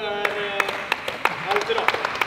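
Scattered applause from a small audience, sharp individual claps spaced irregularly over a steady background of voices and talk.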